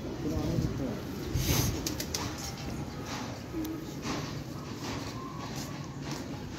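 Pigeons coo softly at close range amid a busy background of rustling and shuffling, with a few louder knocks near the start.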